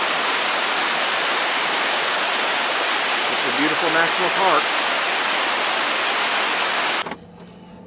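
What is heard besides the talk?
rushing water of the Little Pigeon River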